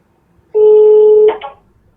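A phone call is being dialed: a steady electronic tone holds for under a second, then two short beeps follow, fairly loud and with no voices.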